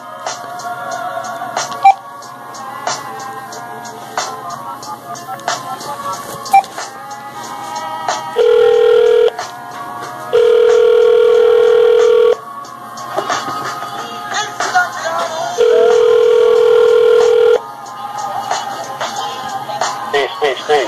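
Telephone line tones while a call show connects to a guest: short steady dial-type tones and a longer sustained tone sound loudly over a busy background of clicks and beeps, with talk around them.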